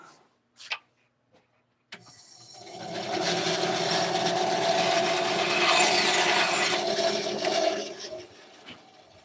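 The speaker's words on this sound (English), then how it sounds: "I got to trim this a little bit at the bandsaw" A bandsaw trims a wooden pen blank, cutting with a steady buzzing whine for about six seconds after a few light knocks and handling clicks, close and loud, then winding down.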